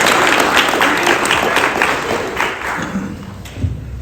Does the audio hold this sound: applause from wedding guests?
yes